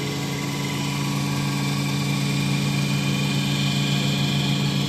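A transformer oil filter machine runs continuously, giving a steady, loud mechanical drone with a constant engine-like hum and vibration and no pauses.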